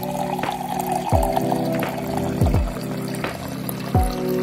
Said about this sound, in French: On va commencer par remplir avec de l'eau filtrée.